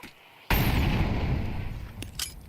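Grenade blast in Counter-Strike during a professional match: a sudden loud boom bursts in and leaves a long rumbling, hissing tail, with a smaller crack near the end.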